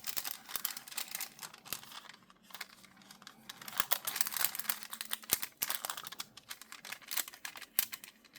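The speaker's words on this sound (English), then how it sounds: "let's pull our tape off and see what we got" Washi tape is peeled off paper pockets in a craft project, a long crackly, rustling tear broken by sharp ticks and crinkles, close and fairly soft, with no voices.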